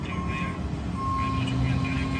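A large loaded truck pulls away while its reversing alarm repeats steady, evenly spaced beeps over a low diesel engine rumble, heard up close.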